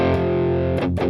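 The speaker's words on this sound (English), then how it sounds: "Distortion volume at 10 o'clock, already there, tone at 12, and gain at 2." Electric guitar runs through a Rimrock Effects Mythical Overdrive Klon-clone pedal with gain set high, ringing as a loud sustained overdriven chord, then two brief rearticulated strums near the end.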